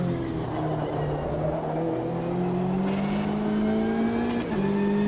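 Race car engine in Automobilista 2 accelerating out of a corner, pitch climbing steadily through the gears with one brief lift and shift near the end, loud and continuous with no speech.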